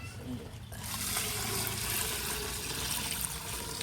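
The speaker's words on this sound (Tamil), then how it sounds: "அரிசிக்கு தேவையான தண்ணியெலாம் சேர்த்தாச்சு அப்படியே மொத்தமாக சேர்த்துக்கலாம்" Water is poured into soaked rice in a pot of chicken for dum biryani, starting after a short pause and continuing as a loud, steady gushing pour close by, with some talk mixed in.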